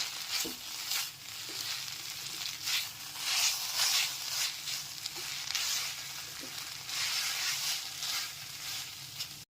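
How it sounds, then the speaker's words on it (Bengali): Chow mein with tomato sauce stir-fried in a hot pan, a steady loud sizzle with intermittent stirring scrapes running continuously and alone. "এরপর খুব ভালো মতো চাউমিনের সাথে মিশিয়ে নিচ্ছি"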